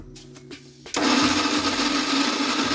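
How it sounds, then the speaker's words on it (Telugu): A mixer grinder grinding coconut pieces: a few short clicks and knocks, then the motor starts with a loud, steady, high whirring roar that holds to the end, close by and with no talking. "ఈ డ్రై ఫ్రూట్స్ ముందుగా కొబ్బరి ముక్కలు తీసుకుని వాటిని మెత్తగా గ్రైండ్ చేయాలి"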